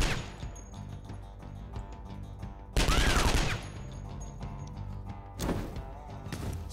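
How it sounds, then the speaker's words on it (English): Gunshots from the gunslinger in the video game Skyshine's Bedlam: a quick burst of loud shots amid game music and effects, with a second burst near the end. "we could just shoot twice with the gunslinger here"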